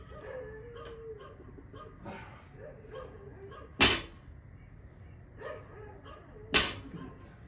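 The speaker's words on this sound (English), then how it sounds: "There's the damn dogs going barking all the time." Dogs bark in the distance, a few scattered woofs and yips, with two sharp, loud nearby cracks standing out over a quiet background.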